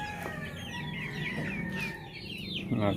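Free-range chickens, including Rhode Island Reds, cluck continuously around a breeding area on a farm, with overlapping near and mid-distance calls and a brief rooster-like crow near the end.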